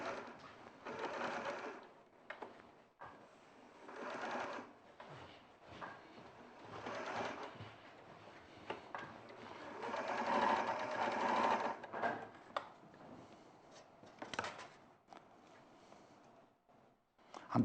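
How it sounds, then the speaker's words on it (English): A sewing machine runs in a television craft-shopping studio, its steady whirring stitching rising and falling in bursts and pausing between runs, heard faintly behind the ambient room sound. "while Jo's sewing that"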